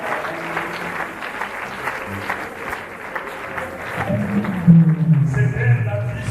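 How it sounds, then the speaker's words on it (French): Applause from a church congregation, steady clapping throughout that swells louder toward the end, with a voice speaking over it. "sous vos applaudissements"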